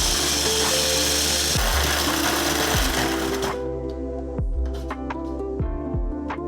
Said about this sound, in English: Throw them in the food processor. And I'm gonna give this a nice thorough blend.